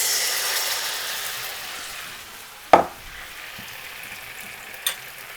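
Passata di pomodoro hitting a pan of hot guanciale fat for amatriciana: a bright frying hiss that slowly fades, with a sharp utensil knock midway and another light tap near the end.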